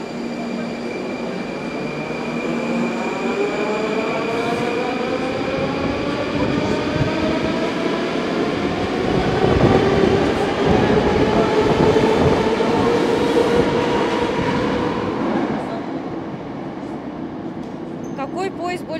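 A Moscow metro 81-740 train rumbles past on the Big Circle Line with rising electric motor whine and rhythmic wheel clatter, loud and close, while a voice talks over it.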